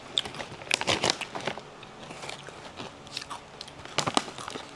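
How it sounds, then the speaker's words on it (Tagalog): Crunchy snack chips being chewed close to the mic, paired with a sour cream flavor, giving a series of sharp, crackly bites and crunches in uneven bursts with no talking. "Rinig ba yung nguya ako?"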